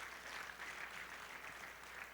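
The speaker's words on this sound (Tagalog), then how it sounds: "Palakpakan naman natin ng malakas si Lord" A church congregation at a Sunday service applauding, a dense, even wash of many hands clapping at a distance, moderately faint and sustained throughout without speech.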